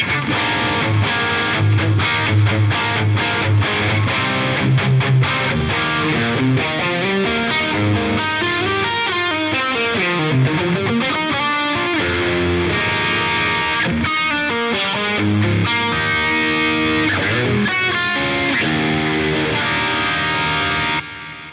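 A distorted electric guitar through a POD Go amp modeler preset plays a continuous riff with chords and bent notes, loud and steady throughout, with no voices.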